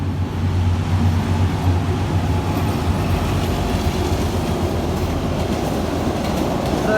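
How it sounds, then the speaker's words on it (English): A sleeper train rolling past a level crossing, a loud steady rumble of wheels and carriages close by throughout, with faint rhythmic clatter and no voices. "So that's a sleeper train"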